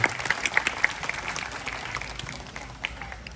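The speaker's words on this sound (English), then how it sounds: "let's give a round of applause to Oscar and Alfie once again" Audience at a night safari show clapping for performers Oscar and Alfie, an owl among them, a light, uneven patter of claps that tapers into a low crowd murmur.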